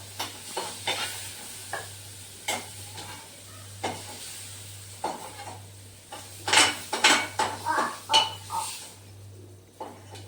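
Food fries lightly in a pan while a spoon stirs it, producing irregular close clinks and scrapes against the metal over a soft, faint sizzle.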